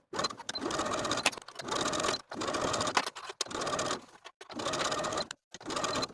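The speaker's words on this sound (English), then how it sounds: "Sew the inseam from the bottom of the short to the bottom of the short on the other side with a 3/8 inch seam allowance." A home sewing machine stitches the inseam of elastic-waist shorts at a 3/8 inch seam allowance, running in six steady bursts of rapid needle chatter separated by short pauses, close and fairly loud.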